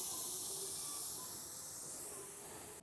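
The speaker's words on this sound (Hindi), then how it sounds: "अब पूरी स्टीम निकल जाए उसके बाद हम इसे चेक करेंगे।" Steam escapes from a pressure cooker on a stove while cooking chicken haleem, a continuous bright hiss that holds steady and fades slightly toward the end.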